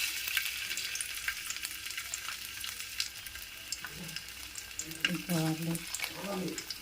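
Ginger sizzling in hot oil in a pan for egg fried rice, a steady close frying crackle throughout with a voice talking briefly over it near the end.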